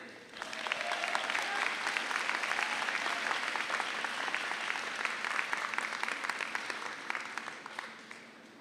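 A university convocation audience applauds a psychology graduate with steady, dense clapping that holds throughout at an even level before easing slightly at the end.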